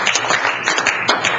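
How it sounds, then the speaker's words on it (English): An audience at a college talk gives a short round of applause, a brief patter of clapping with no speech over it. "Let's give a round of applause."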